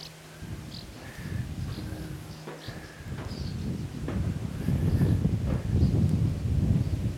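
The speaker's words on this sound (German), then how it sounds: "Hier ist es extrem windig" Strong wind roars and buffets steadily throughout at a coast at low tide, low and rumbling, growing louder toward the end, with a few faint bird calls above it.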